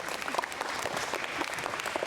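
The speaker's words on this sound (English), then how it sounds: "Give her a big round of applause." A school audience claps steadily, a dense round of applause from many hands in a room that holds for a couple of seconds.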